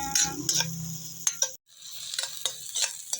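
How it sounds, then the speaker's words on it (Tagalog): Onion and garlic sauté in a home-kitchen pan, soft sizzling punctuated by a few distinct stirring scrapes and a brief pause, close and fairly quiet. "tagisa lang. upang lalabas yung aroma ng ating sibuyas at bawang"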